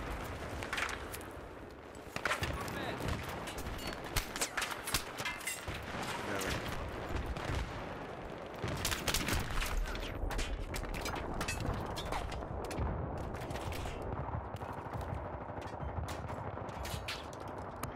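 Rapid gunfire crackles in bursts through a Battlefield 3 firefight, loud close shots mixed with distant volleys and explosions, with a voice speaking over the chaos.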